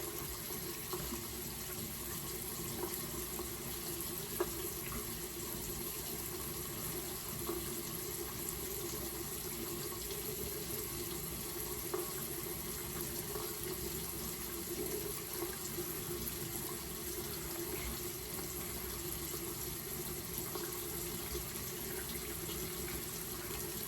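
Tap water runs steadily into a sink during a nighttime face-rinsing routine, a soft, continuous, fairly faint hiss with no talking.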